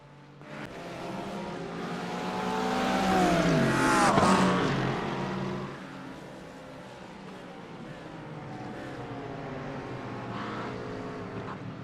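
Race cars in the Spa endurance race roar past one after another. Engines climb to a loud peak as they pass close by, then fade to a steady hum of more cars further off.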